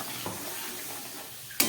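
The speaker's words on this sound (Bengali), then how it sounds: "দিয়ে খুব ভালো করে এখন কষিয়ে নেব।" Egg curry masala fries and gets stirred in a pan, with a quiet, soft sizzle, a light scrape early on, and a sharper stirring scrape near the end.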